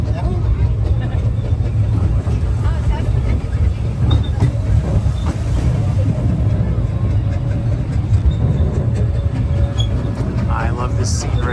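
The Disneyland Railroad steam train rolls along the track, a continuous loud rumble and rattle of the moving cars with occasional clicks, while people talk over the noise.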